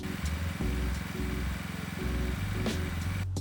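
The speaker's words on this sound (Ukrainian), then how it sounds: "Зараз телевізор споживає небагато, і генератор працює тихо-тихо, економлячи паливо." A petrol inverter generator runs quietly in eco mode, a soft, low engine hum that rises and falls in a slow pulsing rhythm, ending in a brief click, with no talk.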